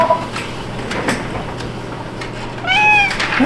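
A cat meows indoors, with a short meow near the start and a louder, drawn-out meow toward the end amid faint room rustles and bumps.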